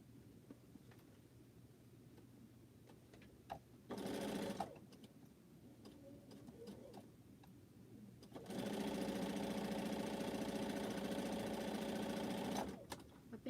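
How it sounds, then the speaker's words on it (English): A home sewing machine stitches a quilt in two steady bursts of rapid whirring, one short and one longer, with quieter room sounds and faint background noise between them. "I think I've been sewing about 8 minutes now."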